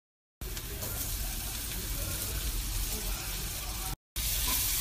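Fried onions and boiled potatoes are stirred in a hot pan, making a continuous crackling sizzle that drops out briefly near the end before resuming.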